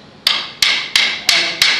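Five sharp, evenly spaced hammer strikes on a metal space elevator climber mockup, each a bright ringing clang that decays quickly, close up with no voices.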